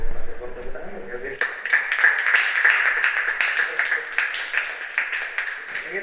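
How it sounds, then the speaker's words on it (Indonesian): Several people in a podcast studio clap their hands together for a student guest, with rapid, fairly close claps running steadily for several seconds after a brief spoken lead-in. "Tepuk tangan Kelvin."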